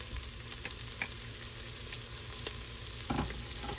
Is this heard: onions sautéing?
yes